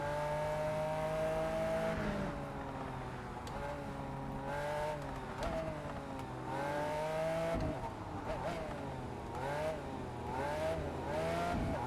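A car engine from the Test Drive Unlimited Solar Crown racing game, an Italian Ferrari or Lamborghini, revs steadily with rising and falling pitch sweeps and shifts, sounding somewhat muted, while a voice talks over it.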